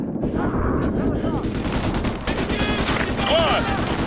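Sustained automatic gunfire laying suppressing fire on a house in Modern Warfare 2 Remastered, dense rattling bursts throughout with shouted voices mixed in.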